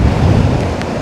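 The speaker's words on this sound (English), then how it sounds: "We need some big waves to hit the end of the wall" Big waves break against the harbour wall below the lighthouse at Porthcawl, a heavy continuous roar of surf mixed with wind buffeting the microphone, loud and close with no voices.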